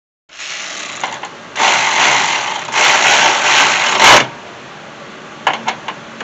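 A ratcheting tool tightens bolts on a new AC condenser in a 2012 Honda Odyssey, two sustained close buzzing runs followed by a few sharp clicks and clanks, loud and without talk.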